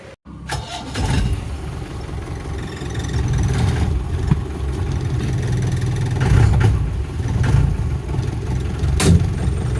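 A 1998 MDI jeep engine cranks and catches, then keeps running at a steady idle with a rough, low throb close by, loud throughout with small surges.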